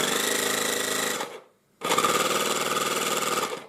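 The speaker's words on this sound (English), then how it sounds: "So it will be more silent through this one and more noisy, the compressor, through this one." A compressor runs noisily with a harsh rapid pulsing rattle, cuts out for a moment, then starts again just as loud and close, no talk.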